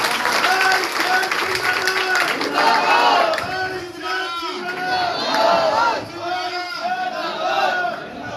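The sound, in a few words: crowd applauding and cheering in welcome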